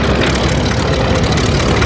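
A 1935-era vintage propeller airplane at an airshow in Habsheim drones steadily and loudly, a dense low engine roar that holds without a break from start to end.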